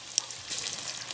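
Breadcrumbs frying in a pan, a soft continuous sizzle with light crackling that swells slightly partway through.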